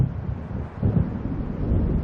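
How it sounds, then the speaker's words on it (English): Low rumbling thunder and gusting wind from an approaching storm in the video game Alan Wake Remastered, a heavy, continuous, close roar with no voices. "It seems there's a storm coming."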